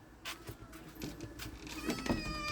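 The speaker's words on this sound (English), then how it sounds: "This is one of the local kitties that we spoil." A cat meows a few times close by, short mewing calls over light rustling and background noise.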